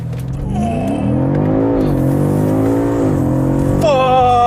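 A 2022 BMW M5 CS with its 4.4-liter twin-turbo V8 launches hard under launch control, the engine note climbing steadily through the revs in one loud, continuous pull with a gear change near the end.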